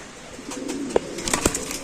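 Maxi Racer pigeons, one ringed and one unringed, give soft low coos with a couple of brief louder calls over a quiet background.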